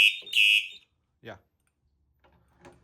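A fire alarm panel's smoke detector, key-activated on a 4251 detector during a system test, sends out a loud steady high-pitched tone that pauses briefly then resumes, followed by a short voice and faint clicks.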